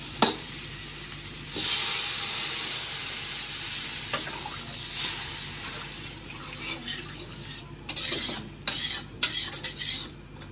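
Sautéed vegetables stirred and scraped in a hot pan, a steady sizzle with intermittent spatula scrapes and clatters growing busier toward the end, close and moderately loud with no talk.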